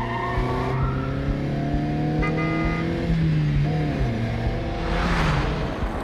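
A car in the Quantum Break video game drifts with sustained tire squeal and skidding over a steady engine roar, the whine shifting in pitch as it slides, loud and close with no talking.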